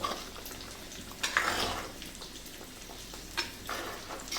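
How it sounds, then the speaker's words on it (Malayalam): A spoon works through a fish curry simmering in a pan, giving soft wet scraping and sloshing with a few louder stirring strokes against a steady background hiss. "നമുക്കിപ്പോൾ ഒന്ന് ഇളക്കി കൊടുക്കാം"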